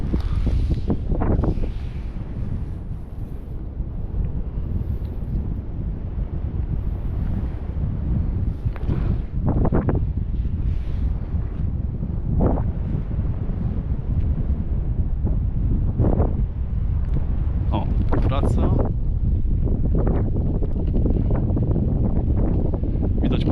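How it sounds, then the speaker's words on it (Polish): Strong wind buffets the microphone in a steady, heavy low roar throughout, with occasional sharper gusts and no voices. "wieje dosyć mocno."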